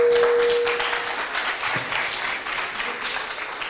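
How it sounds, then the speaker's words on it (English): An audience applauds a group of youth shloka reciters at a Bhagavad Gita summit, a sustained, fairly loud round of clapping from many hands that fades slightly toward the end. "Another round of applause for them."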